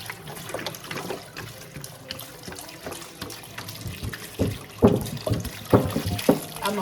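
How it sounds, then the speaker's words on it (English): Water poured from a container into a pot of pork neck bones, a steady splashing stream with louder gushes toward the end, close and alone. "with me pouring water, more water in here"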